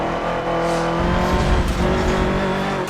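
Race car braking hard into a corner at Spa in Forza Motorsport 7, a loud engine drone with downshift blips and a brief tire squeal, no talk.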